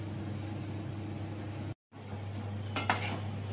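Roasted, washed dried shrimp go into a pan of Konkani vegetable preparation and are stirred: a low steady kitchen hum, a short break, then a brief clattering scrape of spoon against pan near the end.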